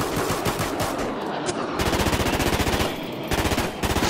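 Machine gun fire in rapid, sustained bursts with short gaps between them, loud and close throughout.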